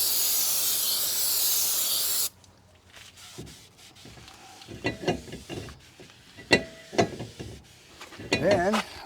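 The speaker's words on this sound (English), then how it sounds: "we'll use a little bit of brake clean just to clean the surfaces" Brake cleaner sprays onto brake surfaces in a single loud, hissing blast of about two seconds, followed by quiet handling noises and a faint voice.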